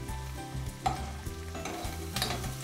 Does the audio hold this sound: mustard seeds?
yes